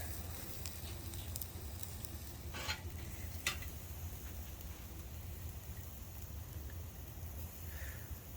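Tri-tip being turned over on a Weber Kettle grill gives off a steady, faint sizzle like light rain, with a couple of brief scrapes and clinks as the meat is moved.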